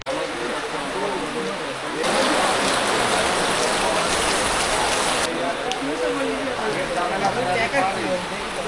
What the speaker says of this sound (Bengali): কাল থেকে টানা চলছে বৃষ্টি